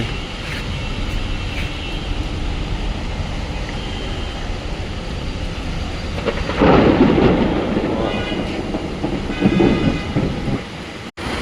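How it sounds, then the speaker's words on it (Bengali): Light drizzling rain with rumbling thunder on a street in Gulshan 1, a steady wash of rain noise that swells louder midway, with no voices. "ঝিরি ঝিরি বৃষ্টি"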